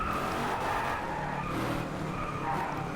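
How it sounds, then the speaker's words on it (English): Car tires skidding and hissing on a wet track while drifting in the rain in the Driveclub racing game, a steady continuous roar of engine and tire noise with no talk. "And again, nice little drift there with the boost."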